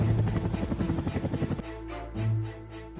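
Chinook heavy-lift helicopter working at about 11,700 feet near Kedarnath, Uttarakhand, its loud rhythmic rotor chop and engine drone filling the first half, then a steadier lower rumble with fluttering pulses.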